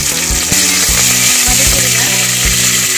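Steady hiss of mustard seeds, urad dal, dried red chillies and curry leaves sizzling in hot ghee, with a rhythmic low clatter of stirring running throughout, close and loud.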